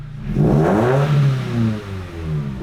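A Subaru BRZ engine with a JDL 4-2-1 header revs up loudly nearby, its pitch climbing and falling through a couple of throttle blips before settling back down.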